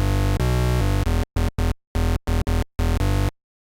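Monophonic bass synth patch in NI Massive playing one note at a time, loud and buzzy, with two longer held notes followed by a run of short choppy stabs, then silence.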